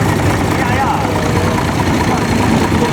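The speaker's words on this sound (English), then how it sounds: "this is a 1929 John Deere GP with the Johnny Popper two-cylinder engine that they adopted early on" A 1929 John Deere GP tractor with its two-cylinder 'Johnny Popper' engine runs steadily at a steam rally showground, a dense continuous engine rumble with people talking over it.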